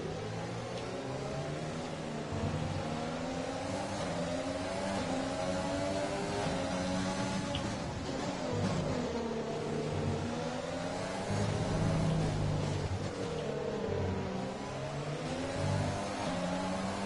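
Formula 1 race car engine in F1 2020 at the Russian GP, a high-pitched revving whine rising and falling through gear changes, steady and continuous with other cars mixed in.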